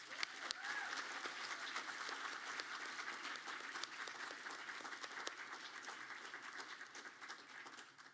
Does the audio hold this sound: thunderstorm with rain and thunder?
no